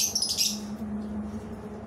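Pet parrots, a pair of Cephalus parrots, give a brief burst of shrill chirping calls at the start, then quiet over a low steady hum.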